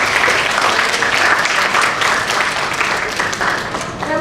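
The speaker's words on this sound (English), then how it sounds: "Please give one more round of applause to welcome him." A conference audience applauds to welcome a speaker at a forum on global military build-up, a dense, steady wash of many hands clapping at full strength throughout, easing slightly toward the end.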